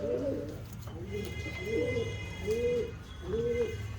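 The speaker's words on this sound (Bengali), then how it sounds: "জিরিয়া লাইনের পায়রা।" Jiriya line pigeons cooing at close range, a series of four or five soft rolling coos repeating roughly every half second to second over a low steady background hum.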